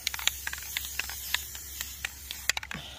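Short hissing bursts of a spray paint can on a Ford cargo van, several quick sprays in an irregular rhythm, close and fairly quiet.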